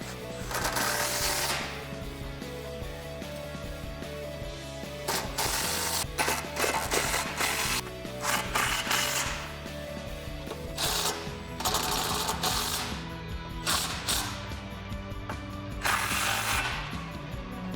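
A ratchet wrench tightening the bolts of a Barricade Apocalypse grille guard on a Jeep Wrangler JK, with repeated bursts of rapid clicking broken by short pauses over a steady low hum, close by.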